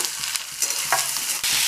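Chopped onions and green chillies fry in a pan with a steady broadband sizzle, broken by short scrapes and clinks of stirring, close and alone with no talk.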